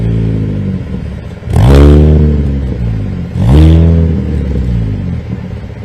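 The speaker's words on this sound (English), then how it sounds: "if we stand by the exhaust, we'll be able to hear and appreciate just how fantastic these cars sound" Racing truck engines at Thruxton in the British Truck Racing Championship, heard up close by the exhausts, two loud deep revs rising and falling over a steady rumbling idle.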